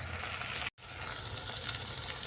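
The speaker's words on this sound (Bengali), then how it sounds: "এটাকে আমি আরও 2 মিনিটের মতন ভেজে নেব" Chopped vegetables with tomato and pineapple fry in a pan, giving a soft, steady sizzle with a brief dropout partway through, close but fairly quiet.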